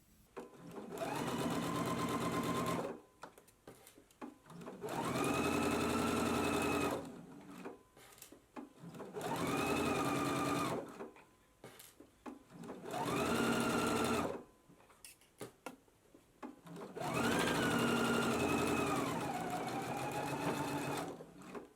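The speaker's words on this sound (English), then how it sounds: "we're going to stitch it at a 3/8 of an inch seam allowance" Sewing machine stitching a pocket seam on a jumpsuit at a 3/8-inch seam allowance, running in five steady bursts of a few seconds each with short quiet pauses between them.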